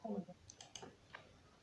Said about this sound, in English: you type the enter key on your keyboard